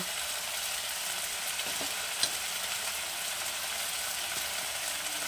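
Spices and salt sizzle steadily in a hot pan as they are stirred for a Bengali koi fish curry with cauliflower. The close, even frying hiss runs throughout, with a faint scrape or two from the stirring.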